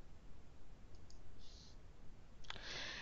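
Computer mouse clicks sound while working in MicroStrategy software: a pair of faint clicks near the start and a sharper one later, quiet against light background hiss, with no talking.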